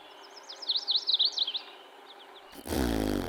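A chestnut-sided warbler sings a poorly formed song: a quick run of thin, high, wavering notes, fairly faint and distant. Moments later a much louder, lower sound cuts in abruptly.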